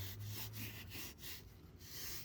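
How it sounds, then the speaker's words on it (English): A stiff gator brush scrubs cleaner into a car seat belt, giving a steady, close rasping rub with brief pauses between strokes. "scrub that into the seat belt"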